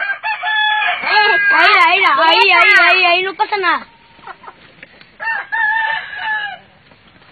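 A rooster crows loudly and close by in a backyard, with a long warbling call and a shorter second crow, while children shout and talk in Spanish over and around it.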